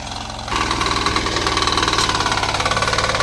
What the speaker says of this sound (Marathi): नऊ H P power power tiller आहे पॉवर विडर दोन डुबे चालू आहेत